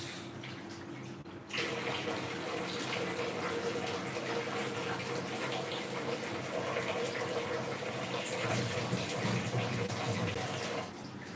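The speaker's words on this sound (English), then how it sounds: "this is moong dal, as most of you would know. I'm going to wash it once." Moong dal for sambar being washed under running water in a home kitchen: a steady loud gush of tap water starts after a short quiet moment and pours continuously, then drops off near the end, with no talking.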